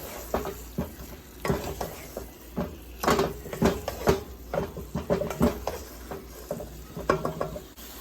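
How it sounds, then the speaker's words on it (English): Repeated scraping and clattering of a utensil stirring beef curry with potatoes in a pot, with a soft sizzle underneath, irregular strokes close by. "Give it a nice mix."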